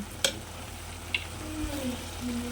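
Tomato, onion and ginger sauté in a pan for chicken biryani, a low steady sizzle with a couple of sharp clinks from a stirring utensil, and faint tonal bits near the end.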